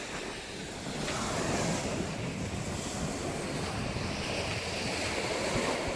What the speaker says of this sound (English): But here we are at the sea.